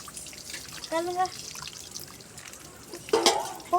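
Water poured from a small pot, with short splashing and trickling bursts and drips heard up close, separated by quiet pauses. Faint talking runs underneath.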